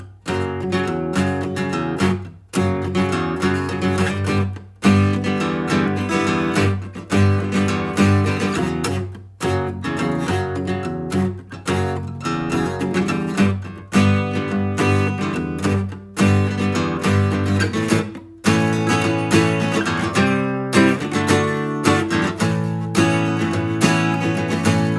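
Acoustic guitar plays a song as a solo lesson piece: steady rhythmic strumming and picked chords with short pauses between phrases, close and moderately loud, no voices.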